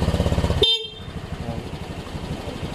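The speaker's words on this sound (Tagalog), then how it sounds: "At meron naman siyang busina." A Honda Click scooter horn gives a short, loud honk over a puttering engine, which then fades to a quieter idle.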